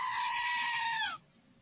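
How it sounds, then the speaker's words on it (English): A goat lets out one loud, close bleat lasting just over a second, with a quavering, nasal tone that drops in pitch before cutting off into quiet. "Always listen to the goat."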